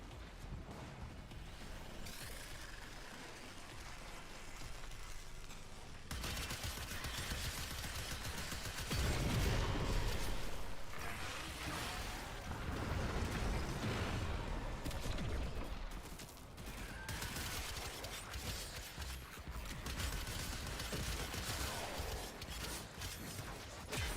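Gunfire from a Vandal rifle in the shooter game Warframe, steady bursts of shots amid dense game action and explosions, fairly loud and continuous throughout.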